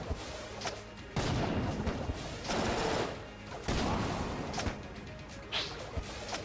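Gunfire in Enter the Gungeon during a boss fight against a jammed Old King, with bursts of rapid shots and crashing impacts repeating in waves over a steady busy game din.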